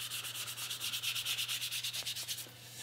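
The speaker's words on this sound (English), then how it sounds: "I want everything to kind of be sanded roughly the same." Hand sanding the wooden body of a guitar to even out raised grain before a water-based stain, a fast, regular back-and-forth scratchy rasp, close and steady, over a faint low hum.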